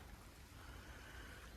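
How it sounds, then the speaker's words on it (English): Rain falls steadily on a fishing bank, a soft, even hiss that stays faint and unbroken throughout, with no voices. "But the rain has eased off a bit."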